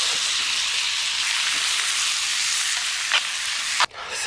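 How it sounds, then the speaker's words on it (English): Sweet corn, black beans and chopped tomatoes frying in a pan at a wild camp, a loud steady sizzle with a few stirring scrapes and a sharp clack near the end. "And goes sweet corn, black beans, and the chopped tomatoes."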